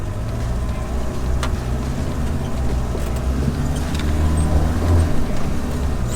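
An old 4x4 engine labours steadily up a flexible bush track in Cape York on hand throttle, a continuous low rumble held at an even pitch with no speech over it.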